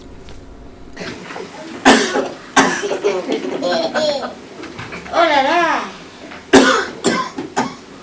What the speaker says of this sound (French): Oh, tu tousses, toi.